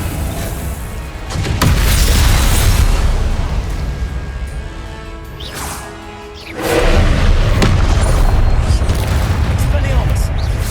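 Confringo spell blasts go off in Hogwarts Legacy combat, loud booming explosions and heavy thuds in a sustained barrage, dipping into a brief lull midway before surging back.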